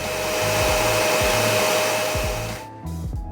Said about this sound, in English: and then turn on my mixer